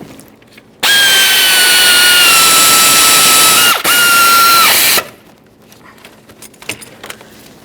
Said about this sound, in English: start in all three of your 8mm headed bolts and snug them up